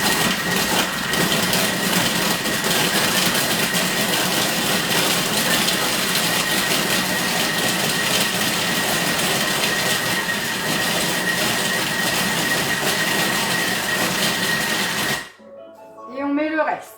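Food processor chopping meat for a vigneronne pie, a loud continuous grinding whir running steadily for about fifteen seconds before cutting off abruptly, followed by brief quiet chatter.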